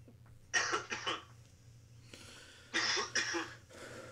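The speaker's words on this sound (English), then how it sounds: "And I heard you cough in the background." A person coughs in the background in two clusters of harsh, rapid bursts with a short quiet pause between them, over a low steady hum.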